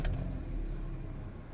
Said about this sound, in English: the car starts up without any problem